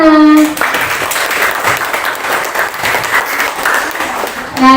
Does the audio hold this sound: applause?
yes